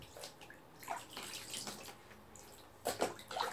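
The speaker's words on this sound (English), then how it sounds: "And wash off the body too." Bath water splashing and pouring as a washcloth rinses a baby's body in a tub, steady close washing sounds with a couple of louder splashes, no talking.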